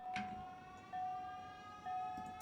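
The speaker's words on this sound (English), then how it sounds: "And the wonderful sirens." A siren in the factory-building game Factorio, played in a Pyanodon's hard-mode battle, holds a steady tone under quiet background game sounds and repeats as a few short alerts.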